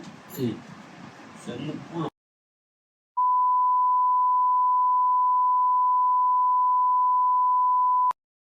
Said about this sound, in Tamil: சென்சாருக்கு போச்சுன்னா மொத்தமா பீப்பா தான் இருக்கு